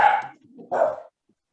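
A dog barks twice during an online meeting call, the second bark louder and slightly drawn out, heard with no one talking over it.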